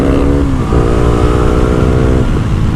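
A 600cc sport bike engine revs loud and close, its rising and falling harmonic whine sustained across the whole stretch with no talk over it.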